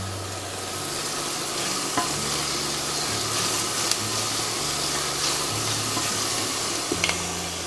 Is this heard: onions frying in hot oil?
yes